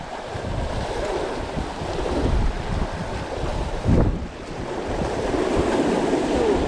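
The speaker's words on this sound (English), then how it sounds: "we literally just got hit by a gust of wind that moved us" Gusty wind roars across the open water of Salt Springs Reservoir as waves slap close by around a small boat, with a stronger gust surging midway under constant wind buffeting.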